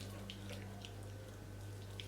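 Water running from a tap and scooped into cupped hands for face cleansing, a soft continuous trickle with faint splashes, no talk.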